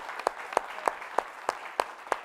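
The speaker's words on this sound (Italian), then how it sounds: "l'applauso lo voglio sentire anche per Luca Calbucci e Claudio Zonardo" At an Italian dance-school show, an audience claps in unison for Luca Calbucci and Claudio Zonardo, seven sharp, evenly spaced claps in a steady rhythm over a soft background of crowd noise.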